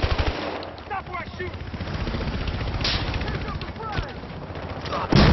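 Automatic gunfire from the Battlefield Hardline video game, rapid bursts and shots running nearly throughout, loud and continuous, with a sharp louder burst at the end.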